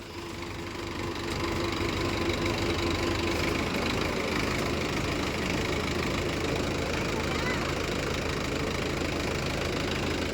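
A Mahindra Yuva Tech+ 585 tractor runs at steady idle with a continuous rough, knocking drone, loud and close, at a maize threshing job, while people talk over it.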